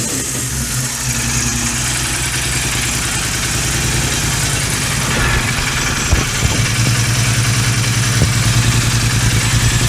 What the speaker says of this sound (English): It's got a nice quiet rumble when it's idling, but when you give it a little throttle,